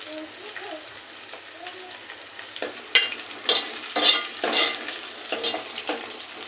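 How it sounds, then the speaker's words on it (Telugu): Green chillies fry in a pan with onions: a soft sizzle at first, then a spatula scrapes and stirs in uneven strokes, bringing louder bursts of frying noise. "పచ్చిమిర్చి కొద్దిగా వేగినాక టమాటాలు వేసుకుందాం ఫ్రెండ్స్ మనము."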